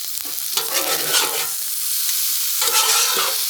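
Chicken fried rice sizzles with sesame oil on a Blackstone griddle, a close, bright frying hiss broken by scraping and stirring strokes of a spatula.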